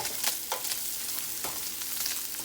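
Onions, garlic and Spam stir-fried in a pan hiss with a steady loud sizzle, broken by a few scraping stirs of the utensil, close up with no voices.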